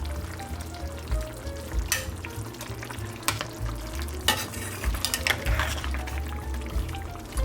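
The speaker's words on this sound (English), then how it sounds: "Let's mix it again." Chicken adobo simmering and sizzling in a pan while being stirred, with scraping utensil strokes and steady bubbling at close range, no talk.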